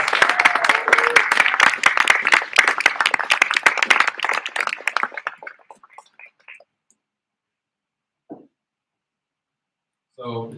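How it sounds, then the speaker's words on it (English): Loud audience applause and clapping fill a community conversation event at Lodo Studios, sustained for about five seconds before thinning out, then near silence broken by a couple of brief faint sounds. "Give him a round of applause"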